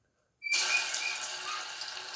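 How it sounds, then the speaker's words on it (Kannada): Batter is poured into hot oil and bursts into a sudden, loud, steady hiss that holds and slowly eases after a moment of silence. "ಎಲ್ಲ ರೆಡಿ ಮಾಡಿಟ್ಟ ಬ್ಯಾಟನ್ ಹಾಕುವ"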